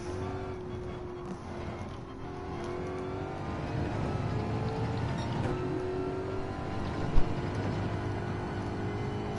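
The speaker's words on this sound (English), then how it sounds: "Just feathering the throttle." A car engine held just off idle with a lightly feathered throttle, a steady close drone with gently wavering pitch and no hard revs, running alone for about nine seconds.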